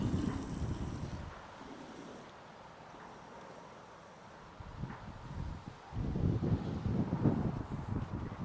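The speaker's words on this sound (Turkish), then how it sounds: "inanılmaz rüzgar var." Strong wind blows outdoors in a garden, buffeting the microphone in rough bursts: a gust at the start, a calmer lull, then heavier rushing gusts toward the end.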